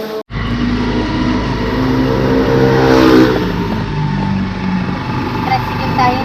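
A tricycle engine revs loudly up close, its motor droning steadily and swelling to a peak midway before settling back, with voices chattering over it.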